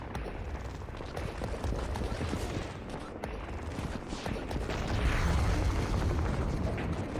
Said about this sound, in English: They're shooting missiles at us.